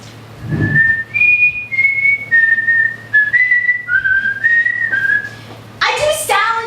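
Someone whistles a short wandering tune of clear sustained notes, followed by a brief burst of other sound at the end.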